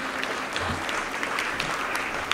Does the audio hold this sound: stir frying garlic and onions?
no